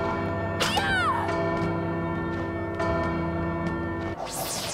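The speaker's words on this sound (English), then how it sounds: "Why didn't I think of jumping in the bells before?" Bells ring in the video game Bloodstained: Ritual of the Night, with several struck tones and shimmering sweeps over a steady droning background that holds throughout.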